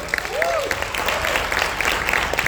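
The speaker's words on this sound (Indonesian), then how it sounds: "Tepuk tangan buat US Team" Loud, sustained audience applause at a UMC 2025 speaker session, many hands clapping steadily and close, with faint crowd murmur underneath.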